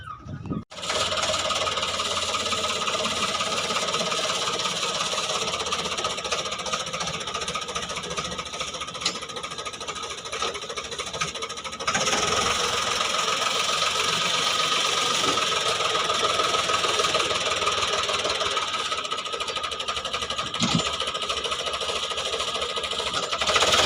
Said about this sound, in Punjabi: ਟਰੈਕਟਰ ਲਾਇਆ ਸਰਪੰਚ ਸਾਹਿਬ ਨੇ ਆਪ ਦਾ